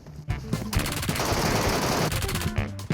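Automatic gunfire from the mobile game PUBG Mobile rattles out in long bursts, one sustained volley filling the middle of the clip, with a few shorter shots around it.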